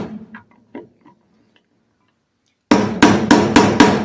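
Hammer blows strike metal parts on a Robin 2PG golf cart engine being disassembled: five loud, sharp, evenly spaced hits close by, following quieter handling clicks.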